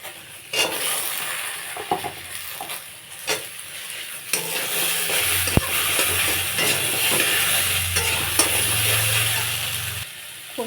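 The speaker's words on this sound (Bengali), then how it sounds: "ছেঁড়া করা কাঁচা লঙ্কা দিয়ে দেবো, আর এই কেটে রাখা কচুগুলো দিয়ে দেবো।" Chopped taro and torn green chillies sizzle steadily in a pan, broken by the clack of a spatula stirring, with a louder hissing stretch midway; no one speaks.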